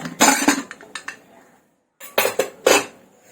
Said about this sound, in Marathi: आता कुकर आपण उघडून बघूया